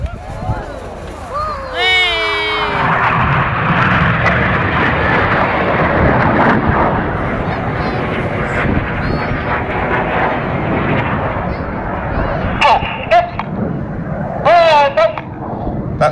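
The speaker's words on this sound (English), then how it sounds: "Pilots flying the jet's max performance around this turn here" Red Arrows jets flying aerobatic manoeuvres at the 2009 Perth Airshow in Scotland, a loud sustained roar of jet engines sweeping past, with a commentator talking over it and crowd noise.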